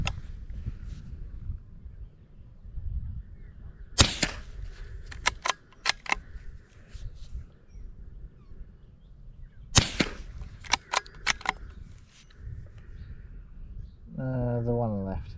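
Sharp, loud rifle shots from a Brno Model 2-E crack out in two separate groups, each a strong report followed by a few quicker snaps, with outdoor voices talking quietly between them.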